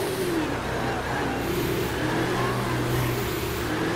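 A 2021 Ford F150 Limited pickup engine in GTA 5 revs steadily under acceleration, a continuous droning engine tone with rising and falling pitch, loud and close throughout.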